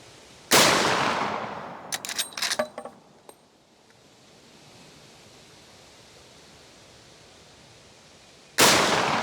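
Two loud, sharp gunshots from a Marlin Trapper lever-action rifle outdoors, one near the start and one near the end, with clinking and a short rattle of handling noise after the first shot, then a quiet stretch.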